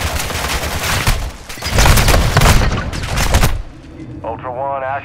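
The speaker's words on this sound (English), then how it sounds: "You are taking effective fire." Heavy video game gunfire on Ashika Island, a dense, loud fusillade of rapid shots and booms that swells and fades, ending with a short electronic warbling tone.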